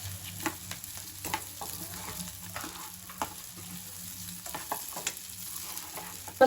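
Kozhukattai dumplings are sautéed with softened onions in a pan, giving a low sizzle punctuated by repeated close scraping and tapping strokes of a spoon stirring them.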